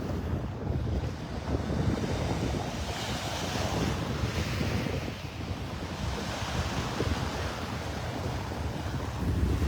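Ocean waves wash steadily onto a Gulf beach at Delnor-Wiggins in North Naples, Florida, a continuous loud surf roar with heavy wind buffeting the microphone and no voices.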